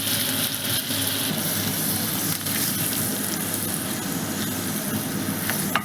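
Chopped garlic cloves sizzling in butter and refined oil in a pan, a steady close crackling hiss with small pops, continuous and without talk.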